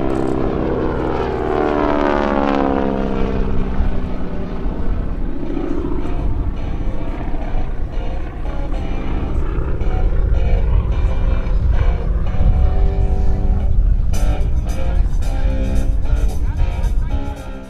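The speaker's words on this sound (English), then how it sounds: "The flight of 4 aircraft approaches the enemy target." A flight of four Geico Skytypers propeller aircraft flies over at the 2014 Rhode Island airshow at Quonset. Their loud engines drone and sweep downward in pitch as they pass close, then keep up a sustained roar.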